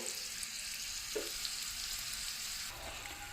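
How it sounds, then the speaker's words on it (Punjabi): Garlic frying in oil in a pan for turnip, spinach and green pea saag gives a steady, close sizzle with a couple of brief stirring scrapes. "ਲਸਣ ਵੀ ਸਾਡਾ ਭੁੱਜ ਗਿਆ ਦੇਖ ਸਕਦੇ ਹੋ ਤੁਸੀਂ"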